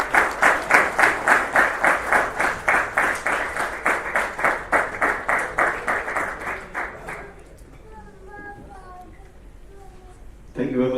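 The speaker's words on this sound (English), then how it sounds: "can you have a big round of applause?" Audience at a closing ceremony for an international doctors' T20 cricket league in Dubai clap in a steady, synchronized rhythm for about seven seconds, then it fades into quieter background chatter before a voice speaks.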